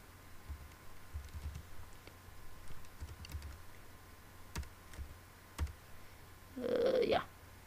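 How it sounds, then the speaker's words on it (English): Keys on a computer keyboard tapped in short, quiet bursts, with a few sharper isolated clicks and a brief louder noise near the end. "just type in any email."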